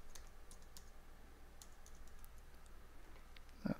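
A short password is typed on a computer keyboard, faint soft key clicks tapping in a brief, uneven run over quiet background hum.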